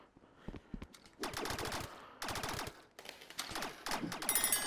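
Rapid automatic gunfire in the Rec Room VR game, played on PSVR, comes in several sustained bursts with rattling rhythm, fairly close, without talking.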